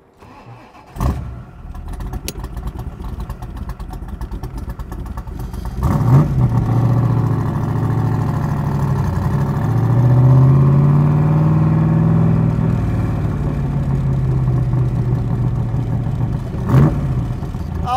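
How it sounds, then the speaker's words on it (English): A 1965 Backdraft RT4 roadster in British racing green starts up and revs, its loud, raw engine rising from a brief crank into a sustained rumble with throttle blips, close by and with no talk. "Oh yeah, the thunder of a Backdraft."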